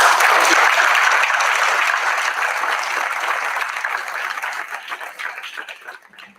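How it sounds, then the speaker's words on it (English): At a school athletics and senior awards event, an audience gives the coaches a round of applause, loud and full at first, then gradually thinning into scattered claps as it tapers off. "please take a moment and give a round of applause for our coaches"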